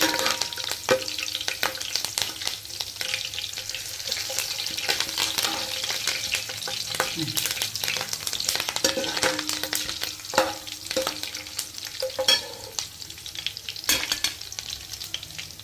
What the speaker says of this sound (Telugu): ఇంకా పచ్చిమిరపకాయలు అండి, పచ్చిమిరపకాయలు వేస్తున్నానండి.